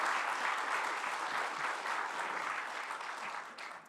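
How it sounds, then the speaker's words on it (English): Students at a Grandparents' Day event get a round of applause from the audience, a steady wash of clapping from many hands that holds even and full before tapering slightly at the end. "Let's give them one more round of applause."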